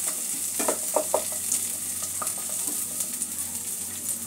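Onion sautéing in hot oil in a pan, a steady close sizzle with a few soft stirring scrapes near the start.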